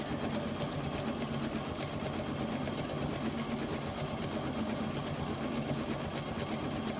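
An embroidery machine stitches a monogram onto a towel with a steady, fast mechanical hum and needle rattle that runs continuously at a constant level, with no talk over it.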